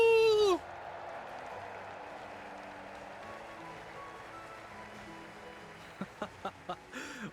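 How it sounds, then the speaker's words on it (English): Crowd applause in the video game Trails in the Sky, a steady broad wash of clapping that holds evenly for several seconds, ending in a few brief louder claps. "let us shower these victors with thunderous applause"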